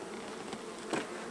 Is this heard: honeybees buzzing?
yes